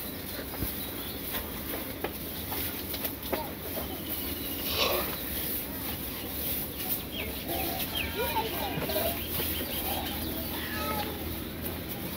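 A village hen clucks in short, scattered calls against a constant background hiss, fairly faint and close, with a few brief sharper clucks spread across the stretch.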